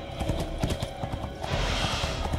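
A horse's hooves clip-clop in a quick, uneven rhythm on a hard surface in an animated Batman series scene, with a faint whinny-like tone and a soft wash of noise rising near the end.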